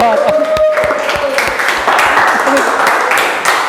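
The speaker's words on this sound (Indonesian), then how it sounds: "tepuk tangan" A middle school class applauding a student's answer in a lesson, with scattered, uneven claps from a small group mixed with voices chattering over them.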